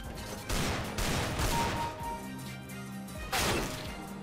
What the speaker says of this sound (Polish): Tutaj widzę strzały.